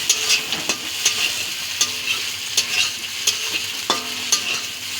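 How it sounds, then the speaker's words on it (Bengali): Eggs being stir-fried and broken into crumbs in a pan for homemade chowmein, with a steady close sizzle and repeated sharp scrapes and clicks of a spatula against the pan, no voices. "ডিমটাকে প্রথমে ভেজে নিচ্ছি একটু, মানে গুঁড়ো গুঁড়ো হয়ে যায়।"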